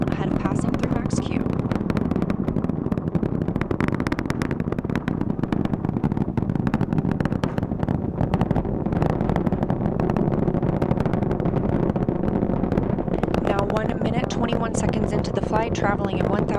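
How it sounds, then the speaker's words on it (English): NASA Artemis 1 rocket core stage engines at maximum thrust, a dense, continuous roaring rumble that stays steady and loud throughout, with a voice talking over it. "The four core stage engines are back at maximum thrust."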